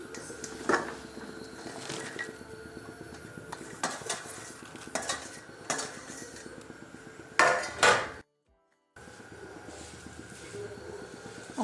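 Chopped taro tumbles into a kadai pan with clattering, scraping knocks of metal and pieces landing, a quick burst of louder clatter near the end before a short silence.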